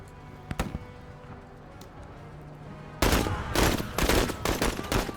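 Gunfire in a military video game, with a few scattered distant shots and then a loud, close barrage of rapid automatic bursts in uneven clusters.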